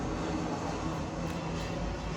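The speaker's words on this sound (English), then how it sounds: "that was a Navy jet going over." A Navy jet flies overhead near Naval Air Station Jacksonville, making a steady, loud, broadband roar that fills the whole stretch without easing off, with no voices.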